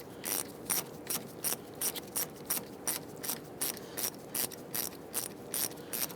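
Ratchet wrench tightening bolts on the rear brakes of a 2000-2006 Toyota Tundra during a wheel cylinder replacement, a steady run of quick clicking strokes, close and loud, with no talking.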